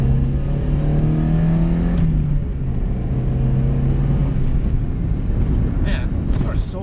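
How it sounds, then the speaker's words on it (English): A Mazda Miata drives over a bumpy road, its engine a steady low drone with a shifting pitch and constant road rumble beneath it. "Man, this car's so fun to drive."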